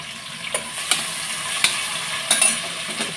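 Onions frying in hot oil with ginger, garlic, green chilli and cloves, a steady bright sizzle broken by several sharp clinks of a spoon stirring against the pan.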